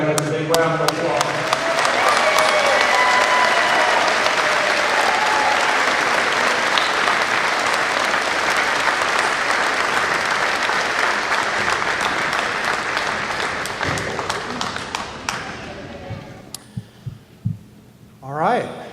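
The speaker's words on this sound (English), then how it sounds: "give all these graduates a big round of applause" Graduates at the Ohio University Eastern 2019 honors convocation get a large hall audience's sustained, loud applause that rolls on for about fifteen seconds before tapering to a few last scattered claps.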